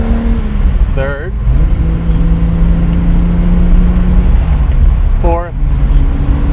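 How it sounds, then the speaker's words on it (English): A 1970 Ferrari 365 GT 2+2 climbs through its gears as a constant engine hum that steps up in pitch once or twice, with someone talking briefly over it at two points. "Let's go through the gears."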